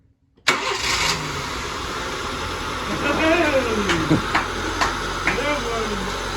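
A car engine cranks and catches after its spark plugs are refitted, then runs at a rough idle with a couple of revs, close and loud, while people talk over it.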